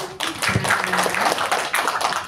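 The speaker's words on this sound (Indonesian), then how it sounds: "Tepuk tangan dulu dong." Indonesian seminar audience at a family club presenter training breaks into applause, a dense, steady patter of many hands clapping at close range with a voice briefly over it.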